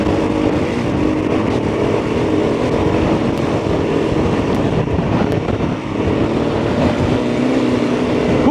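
A Honda CRF300L single-cylinder dual-sport motorcycle revs hard on an off-road ride, with a dense, continuous engine roar and wind buffeting that stays loud and close throughout, no talking heard.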